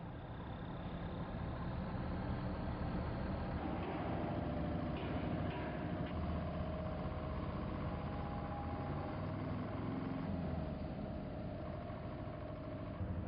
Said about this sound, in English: the tractor is positioned at the rear end of the trailer, and by means of a push bar the generator is slowly pushed inside the building